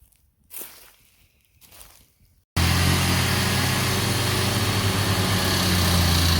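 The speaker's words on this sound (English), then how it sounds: "That's grinding the stump right there." A stump grinder chews into the stump of a large felled tree, starting abruptly after a few seconds of quiet outdoor noise and then roaring loud and steady to the end.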